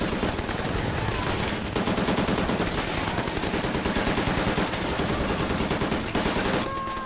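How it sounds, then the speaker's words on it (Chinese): Sustained machine gun fire from a Pacific War drama, American troops firing on a Japanese charge at a jungle defensive line at night; dense, continuous rapid bursts fill the whole stretch at steady loudness with no talk. "子弹像泼水一样射向日军。"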